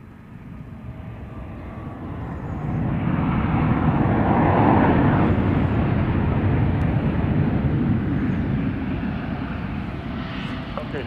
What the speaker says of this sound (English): Southwest 3394, runway 31 left, clear to land